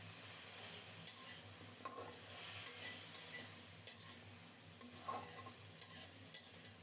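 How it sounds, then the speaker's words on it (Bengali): Turmeric and chili powder stir-fried with spices in a pan for a rohu fish curry, a steady sizzle with scraping strokes of a spoon every second or so, close and moderately loud with no talk. "সব মিলিয়ে ভালো করে মনের মতো কষিয়ে নেব।"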